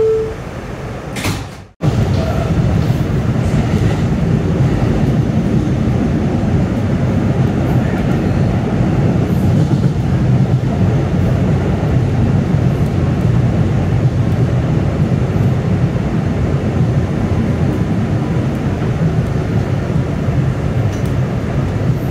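A brand new R211S Staten Island Railway train running on a Tottenville-bound local, heard from inside the car as a loud, steady rumble and rail roar after a brief door thud near the start.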